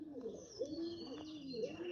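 Young pigeons in a loft give soft, repeated cooing calls, close and steady, with faint chirps woven through and no talk over them.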